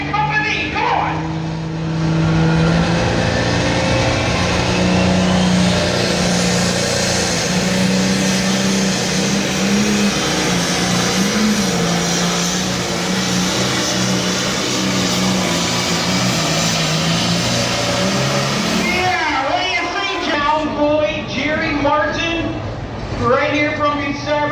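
A limited pro stock John Deere 5020 pulling tractor with a 640 cubic inch turbocharged engine roars loud and steady for about twenty seconds at a tractor pull, with crowd and announcer voices under it, then the engine note drops away.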